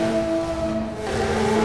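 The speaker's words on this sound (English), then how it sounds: "this car is loud, man" A turbocharged K24 engine in a custom 800 hp Honda Civic EG6, driven in a video game, drones loud and steady with a strong tonal whine, the pitch dipping briefly as it shifts before climbing again.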